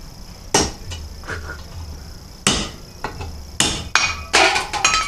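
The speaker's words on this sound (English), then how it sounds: "putting the plate on top to hammer it down a little bit" Hammer blows on a metal plate set over a differential seal sleeve on a 1998 Dodge Viper in a garage: a few sharp, loud metallic strikes spaced irregularly, then a quicker cluster of hits near the end.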